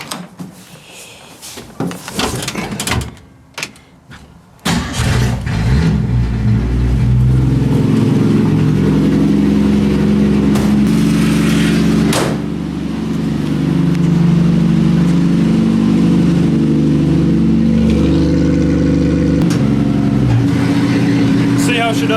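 A 1965 Ford Mustang engine cranks several times, catches and fires up, then settles into a loud, steady, close idle and rev with rising and falling engine tones, heard alone outdoors on a driveway.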